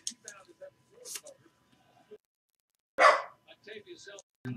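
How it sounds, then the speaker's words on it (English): A dog barks once, loud and near, in a sharp burst between stretches of someone talking indoors. "Friggin' dog."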